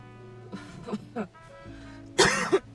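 A couple of rough coughs and throat clearings from one person, close by, the last a loud burst followed by a shorter cough.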